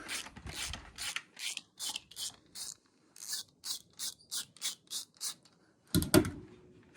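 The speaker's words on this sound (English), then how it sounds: "I'll use a ratchet this time. There's some substantial green Loctite in there." Hand ratchet working loose a green Loctite-locked bolt on a 2021 Honda CRF 450RX suspension, rasping strokes in separate bursts, close, each ending in brief silence, with a short metallic clank at the end.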